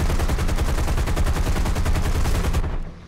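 Rapid machine gun fire in War Thunder, a loud continuous burst of fast even shots lasting about two and a half seconds before cutting off abruptly, no talk over it.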